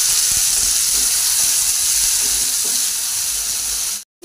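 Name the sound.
chopped tomatoes added to sizzling ginger-garlic paste in pan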